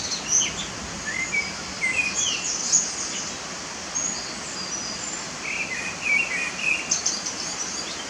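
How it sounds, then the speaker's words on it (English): Varied, melodic song of a common blackbird in semi-open Scottish countryside, several bright warbled phrases rising over a steady outdoor hiss, moderately distant with short pauses between phrases. "Common blackbirds have a lovely, melodic song that is a variable mix of notes and phrases that differs for each male."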